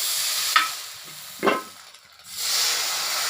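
Rice batter poured into an oiled wok for chakli pitha, giving soft sizzles and hissing with a couple of brief scraping stirs and a short quiet gap, fairly faint and close, no talk.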